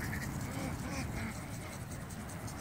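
Ducks quack continuously in a dense, noisy flock outdoors while a border collie herds them, their calls blending into a loud, steady chatter.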